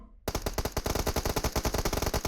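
Rapid automatic gunfire in the PUBG Mobile battle-royale game: a loud, sustained burst of closely spaced shots starting abruptly after a brief quiet moment and continuing steadily to the end.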